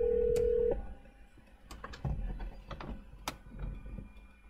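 A Saab 9-3 with factory Bluetooth places a phone call. A steady dial tone gives way to a quick run of keypad-style beeps and clicks through the car's audio system.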